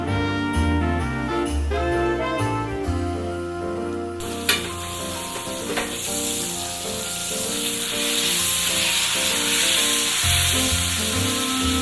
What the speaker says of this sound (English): gently put it into the pan and allow this